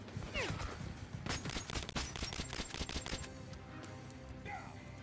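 Rapid gunfire bursts and single shots from the shooter game Metro Last Light crack loudly in close succession, with crashes and whooshes mixed in over a dense, busy background.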